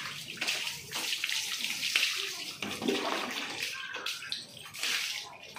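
Water splashing and pouring over a small boy's head in a bath, repeated gushes and sloshes at close range, with faint voices in between.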